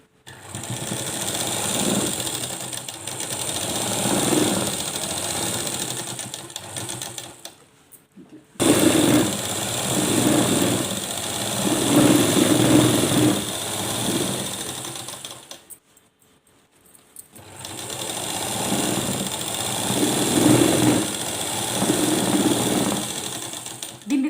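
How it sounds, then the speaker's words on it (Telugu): A sewing machine stitches elastic into a lehenga skirt waistband in three long bursts of rapid, close mechanical whirring, separated by brief quiet pauses. "ఇట్లా గుంజుకుంటా కుట్టాలి స్ట్రేట్గా గుంజాలి"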